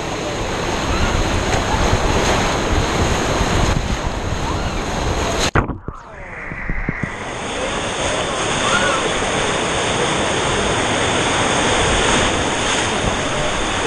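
Rushing water churns loudly around riders on a rapids ride at Aquaventure water park in Dubai, a close, dense roar that dips sharply midway before surging back steadily.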